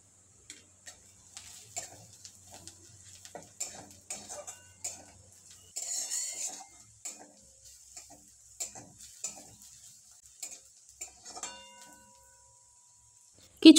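Cabbage stir-fried with chopped green chilli and Kashmiri red chilli powder in a pan, with repeated close scraping and tapping strokes of a spatula over a soft sizzle, plus a louder burst partway through.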